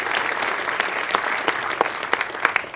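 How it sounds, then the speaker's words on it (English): Audience applause at an awards ceremony, steady dense clapping throughout with scattered sharper claps standing out, fairly close and alone without speech. "Another round of applause for Joe, okay?"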